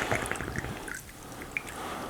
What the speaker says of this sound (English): 50 mLs of our Buffalo Trace straight Kentucky bourbon whiskey